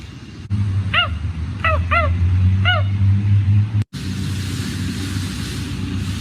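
A dog barks and yips in a few quick high-pitched bursts at a moderate distance outdoors, over a steady low rumble of passing traffic and background noise.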